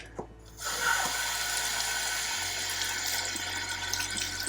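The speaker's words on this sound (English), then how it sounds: "So we'll give the media a quick rinse" Aquarium filter media from a Hygger filter being rinsed under a running tap, giving a steady close rush of water for several seconds after a brief quiet start.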